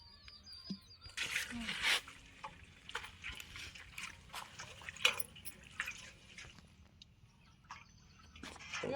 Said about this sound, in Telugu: కొన్ని నీళ్ళు పోసుకోవాలి చికెన్లో ఇట్లా పోసుకుంటే బిర్యానీకి మంచిగా ఉడుకుతుంది